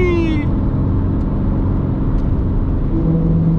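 A car engine at full throttle held in fifth gear, flat out through a curve on a race track, a loud steady high-revving drone with a constant whirring pitch throughout.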